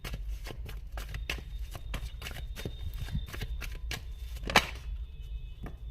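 Tarot cards shuffled in the hands, a quick run of crisp riffling flicks and taps close by, followed by a sharper snap as a card is pulled out, with no voices over it.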